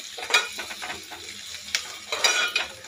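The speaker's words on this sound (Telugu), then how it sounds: "ఇంకా కొంచెం ఫ్రై అవ్వాలి" Onions, curry leaves and ginger garlic paste frying in a pan for a capsicum tomato curry, with a soft sizzle beneath sharp metal spoon scrapes and clinks against the pan, close and without talk.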